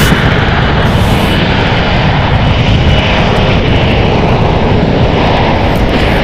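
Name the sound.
Horizon Air plane departing San Francisco for Everett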